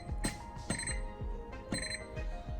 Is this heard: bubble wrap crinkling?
no